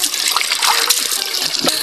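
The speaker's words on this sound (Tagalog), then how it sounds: "Tubig!" Water gushes and splashes in a steady, close, fairly loud hiss that runs unbroken for about two seconds, with no voices over it.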